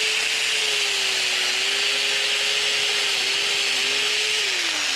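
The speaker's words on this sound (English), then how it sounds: "You want to make sure you've got that beautiful smooth cut, which you get every time with the dual saw." A DualTools CS300 dual saw cuts through a piece of wood trim, a steady loud whining buzz with a constant hum that holds evenly throughout the cut, close up and without talking.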